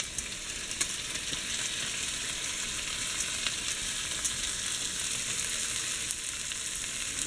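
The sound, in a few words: corn added to a pan, frying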